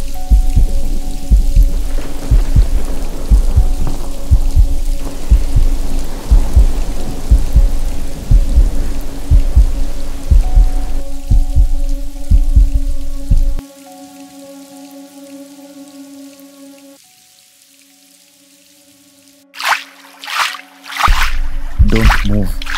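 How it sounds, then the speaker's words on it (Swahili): Heavy rain pours during a flood, a steady hiss layered with low rumbling thumps and sustained tonal drones; the wash cuts out to near silence close to the end before loud bursts return. "Unasikia hiyo? Mvua inanyesha."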